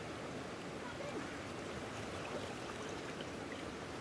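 Steady broadband rushing of a river flowing nearby in the rural Philippines, continuous and fairly even throughout with no voices.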